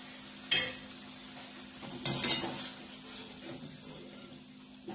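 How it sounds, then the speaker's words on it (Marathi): Samosas frying in oil over a medium gas flame give a quiet, steady sizzle, broken by a couple of brief stirring clinks and scrapes. "आता हे पण चांगले मिडियम गॅसवर चांगले तळून घ्या"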